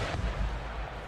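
Siege cannon fire during a battle in the video game Empire: Total War, a heavy booming blast that rumbles and decays over about a second, loud and close.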